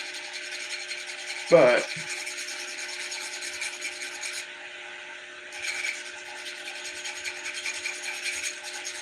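Continuous close rubbing and filing smooths the edges of a freshly cut spinner blade, a steady scratchy hiss with a short sharp scrape near the start and one brief pause.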